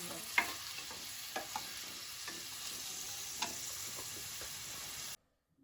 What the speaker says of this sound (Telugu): ఆనియన్స్ బ్రౌన్ అయ్యాయి. ఇప్పుడు టమాటోస్ వేయి.